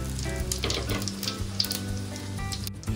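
Whole spices fry in a mix of white oil and mustard oil, where sugar has already gone in, giving a steady close sizzle with scattered crackles and a few clinks, no voices.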